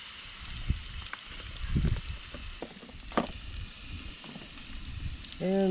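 Potatoes with onions and pepper frying for hash browns while camping, a soft steady sizzle with a few scraping stirs and clacks, fairly quiet and close.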